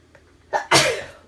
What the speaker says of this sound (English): I'm probably going to sneeze. I'm feeling a sneeze, of course.